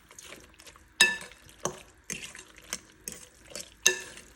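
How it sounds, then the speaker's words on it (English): A spoon scraping and clinking in a pot as food is stirred, about six sharp metallic knocks at a slow uneven pace with soft scraping between them, close by. "we're gonna give it a big stir"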